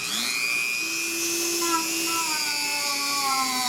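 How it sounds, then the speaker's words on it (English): A power grinder roughs up the inside of a tire around a puncture for repair, a steady high whine with shifting pitch that runs close and continuously throughout. "I need to grind off at least that area of all these funky ridges they put on the inside."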